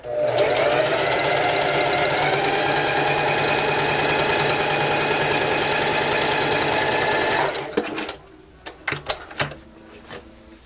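A sewing machine hums and rattles loudly in a continuous run, sewing a straight seam on knit fabric, then stops, leaving a few faint clicks and handling noises.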